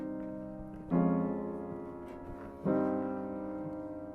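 Two struck piano chords sound in a Neapolitan cadence, each attack ringing and decaying before the next, close and fairly soft with no speech.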